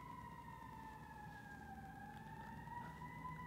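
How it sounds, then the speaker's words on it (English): A fire engine siren wails at a distance, its steady two-tone pitch sliding slowly down and back up over a faint traffic rumble, with no voices. "Siren."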